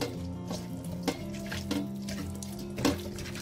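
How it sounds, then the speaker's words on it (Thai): Salted water pours steadily into a bowl of pounded fish paste for Thai fish balls, a continuous close splashing trickle with a few louder splashes. "ใส่น้ำที่เราละลายน้ำเกลือแล้วนะคะ"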